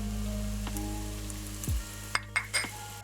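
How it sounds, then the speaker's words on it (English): Garlic added to a pan of onions and mushrooms, a steady close sizzle and fry with a low hum, then a couple of light clinks of a utensil near the end. "Now we're gonna add some garlic."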